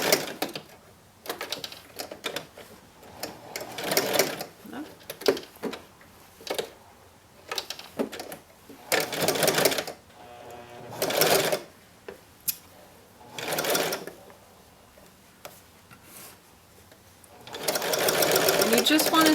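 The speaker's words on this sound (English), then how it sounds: "And I'm going to back stitch like we always do." Sewing machine back stitching a seam on a fitted skirt, in several short rattling bursts separated by pauses, with someone talking in between.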